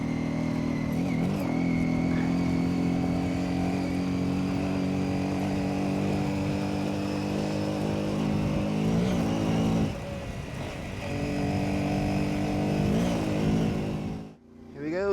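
A budget adventure motorcycle, a Honda CRF250L Rally or Ibex 450, rides over whoops on a trail loop, its engine droning close and steady with repeated rises and dips in revs, then cutting off abruptly near the end.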